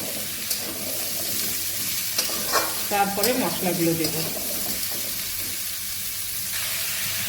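Potatoes and cauliflower frying in a pan while being stirred, a steady close sizzle with scraping stir sounds in the middle, under a brief spoken line.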